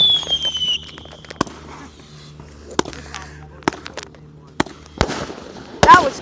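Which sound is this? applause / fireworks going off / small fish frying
fireworks going off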